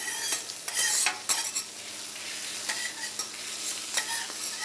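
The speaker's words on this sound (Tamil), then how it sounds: "இப்போ சிக்கனை ரெண்டு பக்கமும் கிரில் பண்ணிக்கிறேன்" Teriyaki chicken pieces grilling in a pan, turned to cook both sides, give a steady close sizzle broken by several sharp stirring and scraping bursts, with no voices.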